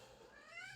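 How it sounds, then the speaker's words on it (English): A 16-year-old cat gives a single short, faint meow with a rising, wavering pitch, heard alone and close. "My cat's calling me."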